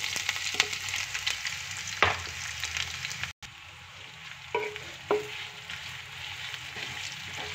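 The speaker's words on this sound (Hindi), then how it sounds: "तेल गरम हो चुका है अब मैं थोड़ा तड़का डाल देंगे" Spices sizzle and crackle in hot oil for a tadka for pumpkin curry, a steady frying hiss with a few sharper pops and stirring sounds, close up and with no talking.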